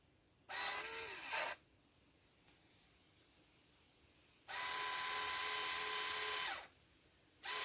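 A small electric actuator motor on a solar panel tracker runs in reverse. Its high, buzzing whine sounds in two bursts, a short one of about a second and then a longer, louder run of roughly two seconds, with quiet gaps between.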